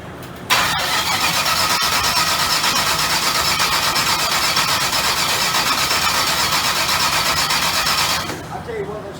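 A Chevrolet Nova under restoration cranks and fires up, its engine roaring loud and steady for about eight seconds close by before cutting back down.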